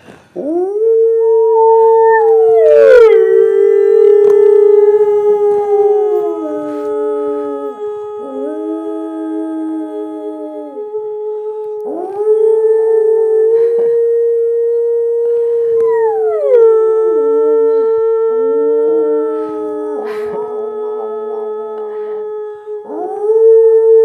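Several people imitate wolf howls with long, classic rising-and-falling cries. The loud, close voices overlap in sustained tones across three main swells with brief dips between them, and a dog-like whimpering slide appears near the end.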